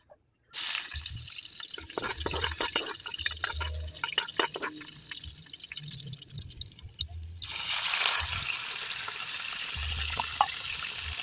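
Water added to a cooking pot of sponge gourd, a sudden splashing pour followed by softer trickling and drips, then a second gushing pour near the end, heard close with no talking.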